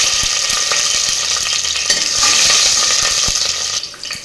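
Cinnamon, cloves, star anise and green chillies sizzle and fry in hot oil, a loud, steady crackling hiss with a few sharp pops, close and alone.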